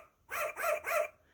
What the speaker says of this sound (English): For joy, Foo-Foo barked.